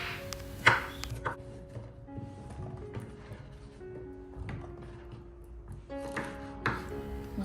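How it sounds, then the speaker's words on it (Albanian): Two carrots chopped with a knife on a board, giving a run of quick, uneven dry taps with a few louder strikes, close up over a faint steady background hum. "Më pas marrim 2 karrota, të cilat I presim gjithashtu."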